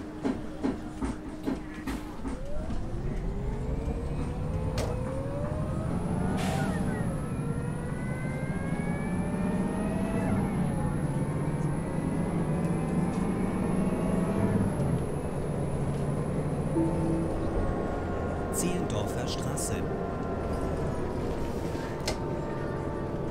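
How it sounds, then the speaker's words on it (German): A Mercedes-Benz Citaro bus in the OMSI 2 simulator drives through Teltow with a loud, continuous engine drone that rises and falls in pitch as it accelerates and shifts, plus a high whine and a few clanks near the end. "ich hoffe, mit der Lautstärke passt das Ganze, ja, dass ihr viel von dem Bus hören könnt"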